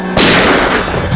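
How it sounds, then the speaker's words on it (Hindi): A loud gunshot blast erupts abruptly near the start of a village crime scene, a broad crack that rings and decays slowly over a second, with no talk over it. "ये क्या गोली चलने की आवाज है?"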